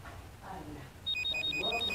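A telephone in the game Onimusha: Demon Siege rings with a rapid repeating electronic trill of regular bursts, starting partway in over low background game ambience.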